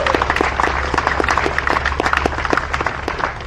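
Applause rises from a crowd at an outdoor Fourth of July time capsule ceremony, a steady patter of individual claps, moderately loud, under a low hum.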